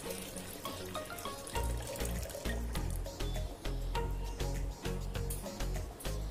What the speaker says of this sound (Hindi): अब यहाँ पर हमने एक मिक्सी लिया है जिसमें ये जो नारियल का पानी है वो लेंगे।